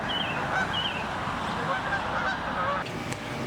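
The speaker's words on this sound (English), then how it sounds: "Pardon the geese, sorry about that." A few geese honk repeatedly in short, scattered calls at a moderate distance over a steady outdoor background hiss, with no speech during the calls.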